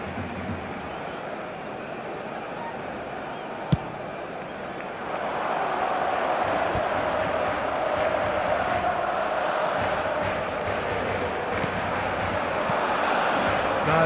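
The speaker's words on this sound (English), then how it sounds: "a lot of applause for the thought" Crowd noise from the eFootball video game: a low stadium murmur swells into broad, sustained applause and cheering midway, with a single sharp click near the start.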